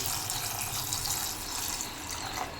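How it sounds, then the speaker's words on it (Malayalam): Water pours steadily over grapes in a dense, continuous rush, loud and close, with no voices. "മുന്തിരി മുങ്ങി കിടക്കുന്ന രീതിയിൽ വെള്ളം ഒഴിച്ചു കൊടുക്കണം"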